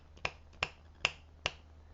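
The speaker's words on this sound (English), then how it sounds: "if I snap my fingers" Four sharp finger snaps at an even pace, close and crisp, with a short ring of room reflection after each, made beside a wall in a quiet room.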